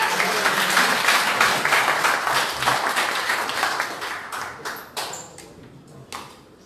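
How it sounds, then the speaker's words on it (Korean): Applause from a crowd at a political party leadership candidate speech event, dense and steady at first, then thinning into scattered claps as it fades out. "박수 좀 부탁드립니다."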